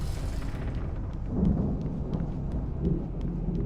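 A thunderstorm rumbles in the video game Alan Wake Remastered, low rolling thunder swelling twice over a steady dark hiss of rain, with faint ticking clicks scattered throughout and no voices.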